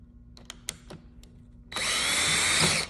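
A power driver spins for about a second to reinsert a lid screw treated with Loctite, a loud, steady whir that follows a few sharp clicks and handling knocks.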